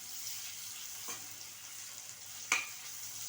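Ingredients sautéing in a pan for chicken pulao, a steady soft sizzle with two spoon stirs and scrapes, the second louder, close and with no talking.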